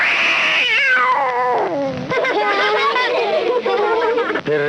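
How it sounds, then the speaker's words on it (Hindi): A kitten in a basket meows in long, high, wavering cries that rise and fall, running almost continuously and loud from start to finish. "टोकरी में एक बिल्ली का बच्चा"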